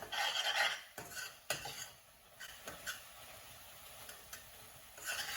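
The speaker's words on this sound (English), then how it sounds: "Keep mixing it." A spoon stirs tomato puree in a pan for peas masala, giving scraping, clicking strokes with soft sizzling in between, close and fairly quiet.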